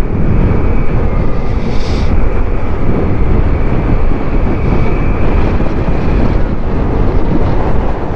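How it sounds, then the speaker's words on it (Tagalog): Strong wind gusting over an open outdoor spot at Kalaka, roaring as continuous broadband buffeting against the microphone, loud and steady throughout with no talk. "Lakas ng hangin."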